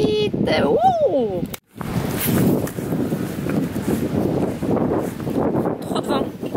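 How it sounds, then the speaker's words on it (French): Gusts of strong wind buffet the microphone outdoors near a small waterfall, a loud rumbling roar that drops out briefly before returning; a voice speaks at the start. "trop de vent. Je peux pas filmer, trop de vent."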